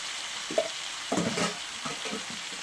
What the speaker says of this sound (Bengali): এবার দিয়ে দিচ্ছি পাত্রটা দিয়ে একটু জল দেব